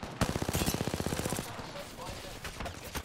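Automatic gunfire in Apex Legends rattles in a fast, evenly spaced burst of about a dozen shots, followed by scattered quieter shots and game noise.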